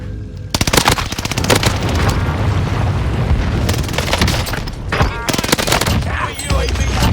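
Sustained automatic gunfire in a competitive shooter video game, with a loud, dense, continuous stream of rapid shots and heavy booms, briefly dipping before resuming.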